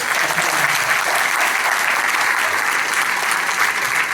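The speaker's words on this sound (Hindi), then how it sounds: "एक बार आपके लिए तालियां बजाइए।" A large audience at a business seminar claps in a continuous, loud, even wash of applause that holds steady from start to finish with no speech over it.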